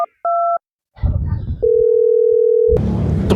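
Telephone tones while calling a sibling: a short two-tone beep, then a long steady single ringback tone, with talk and background noise around it.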